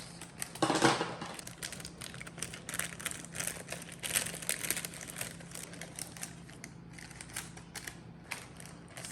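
Scissors snip through crinkly pink sugar-coated packaging: a loud rustle early on, then a steady series of crisp cuts and crackles.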